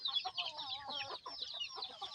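Chickens cluck close by in a quick, busy run of calls, several overlapping in a short chorus with no talk.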